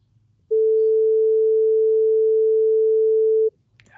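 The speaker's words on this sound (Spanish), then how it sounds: "aquí está la onda sinusoidal y aquí está cómo suena" A pure steady sine-wave tone holds at one pitch for about three seconds, starting and stopping abruptly, loud and alone against faint background hiss.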